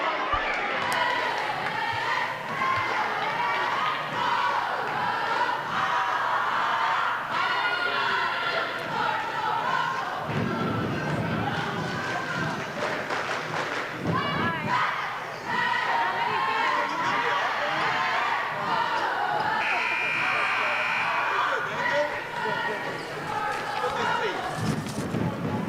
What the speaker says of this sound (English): There we see the Cardinal cheerleaders bringing the spirit to the crowd, and the crowd enthusiastically joining in.